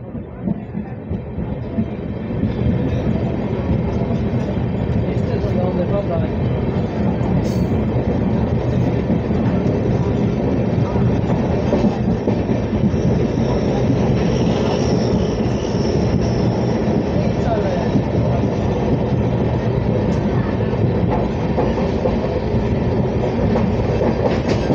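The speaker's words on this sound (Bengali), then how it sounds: "ফকিরাগ্রাম স্টেশন ছেড়ে চলে যাচ্ছে" A passenger train pulls out of Fakiragram station on the Falakata to Dibrugarh route, heard from inside as a loud, continuous rumble that builds quickly, with steady clickety-clack of wheels over rail joints.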